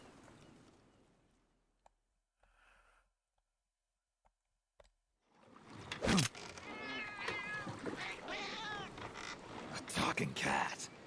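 A cat meows in the video game Metal Gear Solid Peace Walker, several drawn-out, wavering cries rising after a quiet stretch, heard among game voices.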